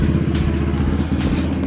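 An MV Agusta motorcycle with a single-sided swingarm and triple exhaust revs hard and close, a loud, raspy, continuous engine roar with rapid pulsing.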